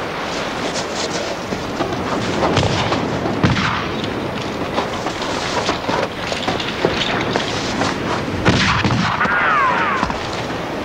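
Gunfire during a confrontation on a cliffside, heard as sharp cracks within a dense, continuous wash of noise and commotion that stays loud throughout.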